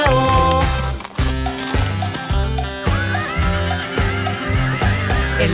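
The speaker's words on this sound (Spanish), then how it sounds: "Y en la granja tenía un caballo" Horse whinnies and clip-clop effects in a Spanish-language children's farm song about Old MacDonald, sounding repeatedly and loud over a bouncy rhythmic music backing.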